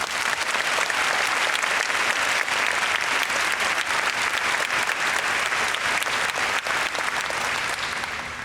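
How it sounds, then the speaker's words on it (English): Sustained applause from a sizable audience, steady and enthusiastic throughout with no voices standing out. "Let's give a round of applause for all the people that made this happen."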